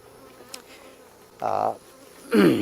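Bees around a hive buzz in two short close passes, a droning hum rising and fading against quiet outdoor background.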